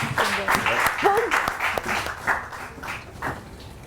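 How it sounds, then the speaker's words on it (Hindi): A studio audience on a morning TV talk show applauds in a dense, steady wash of clapping, with a presenter's voice speaking over it. "आप लोगों की भरपूर तालियों में बुला ले हैं जी, पिंकी हमारे साथ है मौजूद।"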